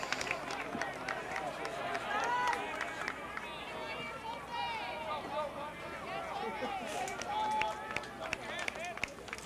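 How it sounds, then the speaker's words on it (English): Murmuring crowd at a college rivalry baseball game between Tennessee Wesleyan and Milligan University, a steady babble of fans waiting on a full-count pitch, with scattered shouts, whistles and a few claps throughout. "Fans, you can hear kind of the anticipation from the crowd noise."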